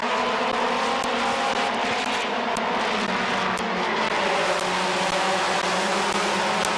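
Race cars circling the track at Midvale Speedway during a lap: a loud, continuous engine roar that holds steady throughout, with no announcer heard over it.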